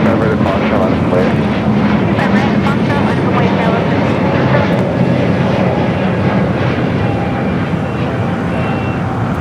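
A plane taking off from a runway at Los Angeles International Airport gives a loud, sustained engine roar that fills the whole span. A faint radio voice may be mixed in.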